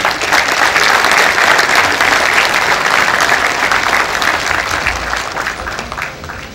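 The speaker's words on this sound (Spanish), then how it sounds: "los despedimos con un caluroso aplauso" Warm, sustained applause from the audience at a professional engineering association's diploma and insignia ceremony in Lima, a dense, steady wash of clapping that fills the room and tapers slightly toward the end.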